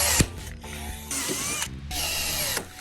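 Electric riveter setting rivets in an aluminium and composite driveway gate, with sharp mechanical clunks and ratcheting bursts separated by short gaps, close and moderately loud, no talk.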